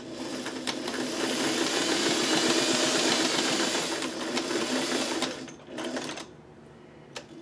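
A sewing machine stitching a scrappy denim and muslin patchwork block whirs steadily at close range for about five seconds, then stops, followed by a couple of short bursts of stitching as it backs up.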